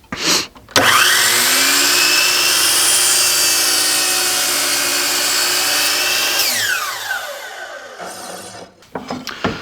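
A power saw set to a 45-degree angle cuts a 15.5-inch board, with a sharp startup, a steady loud whine through the cut, and the motor then spinning down before a few handling knocks.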